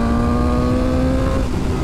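A BMW M1000R naked motorcycle's engine roars loud and close in a steady, rising tone, then briefly dips near the end.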